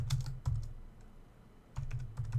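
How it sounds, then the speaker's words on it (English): Bursts of keystrokes on a computer keyboard as a password is typed, two quick clusters of clicks separated by a short pause, close and clear with no talking. "I'm going to go ahead and type in"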